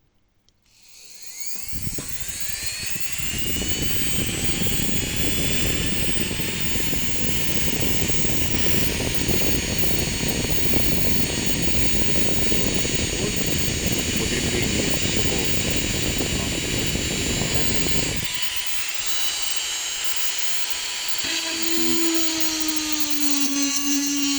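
A homemade mini drill and milling machine runs off a bench power supply set to 1.5 amps and about 12 volts, spinning up to a steady high-pitched whine with a dense buzzing drone for about sixteen seconds before the load drops and a fainter whine continues.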